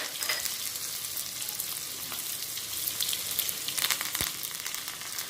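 Onion added to hot oil for a curry frying with a steady, continuous sizzle at close range, with a few sharper crackles and pops, alone without any talk.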